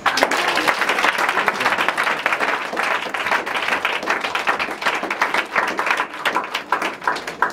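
A congregation at a deliverance session in a spiritual guide's office applauds to acclaim Jesus: dense, loud, continuous clapping from many hands, sustained evenly for several seconds.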